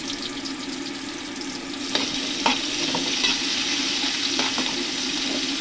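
Garlic, onion and ginger sauté in a pan for porridge, a loud continuous close sizzle with occasional stirring scrapes and clicks, no talk.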